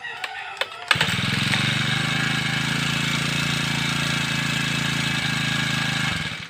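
A grass cutter engine starts with a few clicks and pulls, then runs at a steady loud drone close by for several seconds before cutting off at the end.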